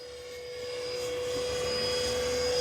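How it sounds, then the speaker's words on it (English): Blade 330S RC helicopter rotor whirs with a steady, loud, even hum and high whine, growing slightly louder throughout with no talking. "You can really hear the difference on this helicopter."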